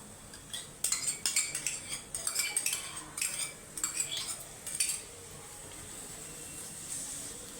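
A spoon stirring yogurt into Bengali bhetki fish curry in a pan, a run of close metallic clinks and scrapes for several seconds, then a quiet hiss.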